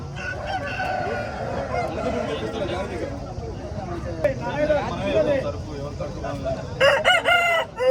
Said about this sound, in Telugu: ఇవి వచ్చేసి బెర్సజాతికి సంబంధించిన పుంజు పెట్ట అండి